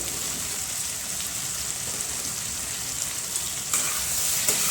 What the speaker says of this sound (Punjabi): ਤੜਕੇ ਦੇ ਤੇਲ ਛੱਡ ਦਿੱਤਾ ਤੇ ਹੁਣ ਮੈਂ ਅਰਬੀ ਪਾ ਦਵਾਂਗੀ